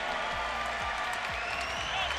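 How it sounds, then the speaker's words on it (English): A fight-night crowd at a Front Street Fights event applauds loudly and continuously, a dense wash of clapping with an announcer's voice faintly underneath. "how about a special round of applause for Joe Penafiel?"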